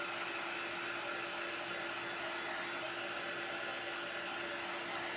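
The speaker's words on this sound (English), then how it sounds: "if you're using a heat tool like this, keep it moving. Don't let it sit still in one spot." A handheld heat tool blows hot air over a decorative paper gift box craft, a constant airy whoosh with a steady hum, even and moderately quiet throughout with no talk.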